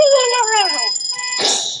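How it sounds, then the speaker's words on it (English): A loud electronic alarm chirps with descending tones, then a short harsh buzzing burst, alone and close. "An alarm is a loud sound that tells you to do something"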